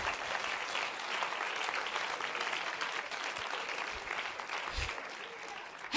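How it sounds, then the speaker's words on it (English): Congregation at a women's church conference clapping in praise, a steady wash of many hands filling the room for several seconds, with no voices standing out. "Give the Lord a clap offering of praise."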